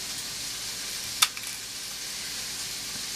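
Garlic and tomatoes hitting a hot soup pot set off a steady bright sizzle, with one sharp clatter as the ingredients drop in, then continuous frying hiss at close range.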